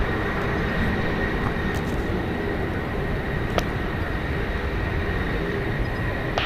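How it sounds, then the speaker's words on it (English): Airbus A319 departing San Francisco International Airport, a steady broad roar of jet engines rumbling continuously at a distance, with no voices over it. "Have a baby bus departing there, an A319"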